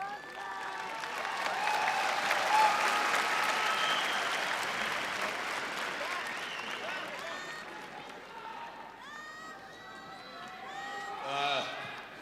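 Loud, sustained crowd applause and cheering fill a large arena at a PRIDE FC mixed martial arts event at Saitama Super Arena, easing a little toward the end.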